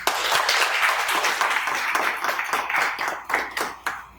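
An audience at a Chhattisgarhi poetry recital claps after a poem, starting as a loud, dense round of applause and thinning into a few scattered individual claps at the end.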